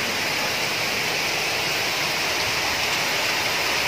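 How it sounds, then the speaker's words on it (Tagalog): Heavy rain pours steadily in a broad, constant hiss that stays loud and even throughout, with no voices over it. "Sobrang lakas ng ulan."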